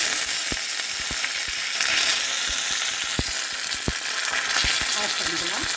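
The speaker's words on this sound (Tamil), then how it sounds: "சட்னியை நம்ம தாளிச்சுக்கலாம். ரெண்டு உளுத்தம்பருப்பு" Urad dal and mustard seeds tempering in hot oil for onion chutney, a dense steady sizzle dotted with sharp crackles and pops scattered irregularly, close up and without talk.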